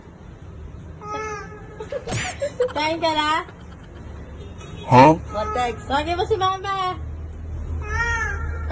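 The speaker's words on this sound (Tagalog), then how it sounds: "Kulang na lang, magsalita na yung pusa ah." Several short cat meows rise and fall in a home, mixed in with lively talking and a few loud exclamations, the cat's calls coming in bursts between the voices.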